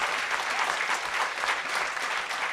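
Dense, steady applause from an audience at a political rally, a continuous wash of many hands clapping.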